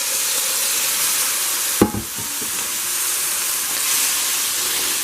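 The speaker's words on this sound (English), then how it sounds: "Water helps give us more steam. We need steam. Water does that. It'll add more steam to the pan" Water poured along the side of a hot pan with melting butter for fajita burritos, a sudden loud splash and burst of hissing steam, then a steady sizzle continuing in the pan.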